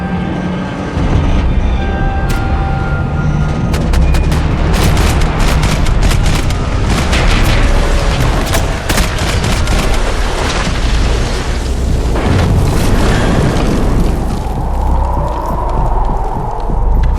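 Gunfire and explosions from the video game Max Payne 3 rattle in dense rapid bursts with heavy booms, loud and continuous throughout.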